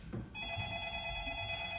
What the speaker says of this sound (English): We'll have telephones ringing.